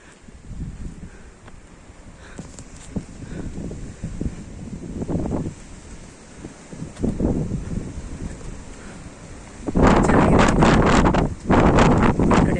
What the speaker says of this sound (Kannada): ಗಾಳಿ, ತಂಪಾದ ಗಾಳಿ